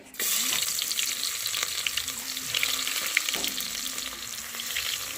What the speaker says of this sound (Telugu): ఆనియన్ వేసుకొని ఫ్రై చేసుకున్నాను ఎందుకంటే ఆయిల్ బాగా హీట్ ఎక్కింది